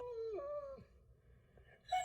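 A dog howls in pain with a drawn-out, falling whine, goes quiet briefly, then lets out another sharp rising cry, faint and fairly distant.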